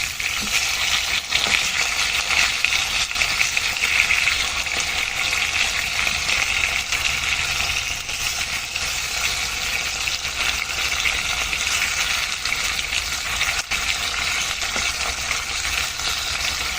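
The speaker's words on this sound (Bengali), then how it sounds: "সব মাছ সুন্দর করে ভেজে নিলাম।" Fish sizzle and fry steadily in a hot pan, giving a continuous dense crackle at an even level with a few faint clinks, and no voices.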